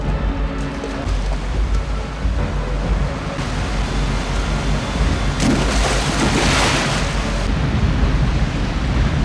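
A huge waterfall in a film scene roars as a dense, continuous rushing wash of water that swells louder midway, with a low rumble underneath and no voices.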